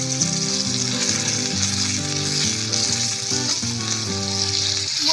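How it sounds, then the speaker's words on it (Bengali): Marinated chicken pieces fry in a wok, giving a steady, loud, close sizzle that runs without a break, with no talking over it. "মাংসটাকে ভাজা করছে"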